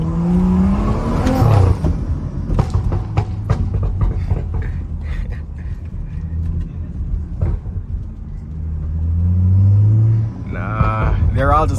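A loud BMW F30 335i Stage 2+ accelerates hard through a rich neighbourhood, its engine rumbling and revving up in rising pulls heard from inside the car, with someone talking over it.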